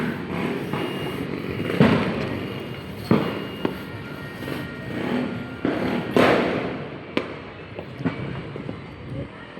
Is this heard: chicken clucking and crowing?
no